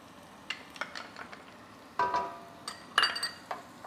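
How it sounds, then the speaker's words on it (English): Garlic tossed into a pan of cooking onions, with scattered stirring, scraping and faint sizzle bursts, soft and close, a few sharper clinks of a utensil against the pan, no talking. "Now we can throw the garlic in."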